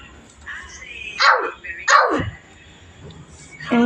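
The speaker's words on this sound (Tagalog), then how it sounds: "may tumutunog na aso" A dog gives two sharp barks close by, separated by a short pause, with a third bark starting at the end.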